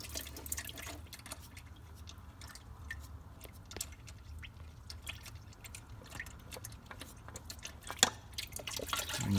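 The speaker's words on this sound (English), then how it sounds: "we'll just let the last bit of oil drain out" Used motor oil dripping from a removed car oil filter into a drain pan, a faint scatter of irregular small drips and ticks over a low background hum.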